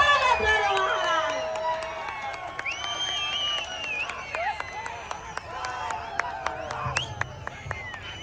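A large crowd at a political mass rally in Kathmandu cheers with loud whistles and rising shouts, and scattered claps join in as the noise fades toward the end.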